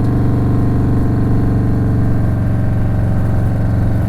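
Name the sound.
Harley-Davidson Softail Street Bob motorcycle engine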